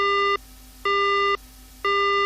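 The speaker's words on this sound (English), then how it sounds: "The phone goes dead." A dead phone line in the video game Death Mark sounds as a repeating electronic busy tone, three loud sustained beeps separated by short gaps, clean and alone.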